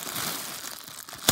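Something cuts open a package for a toy Ardennes stallion figure, a close, continuous crinkling and tearing of packaging that ends in a sharper crunch.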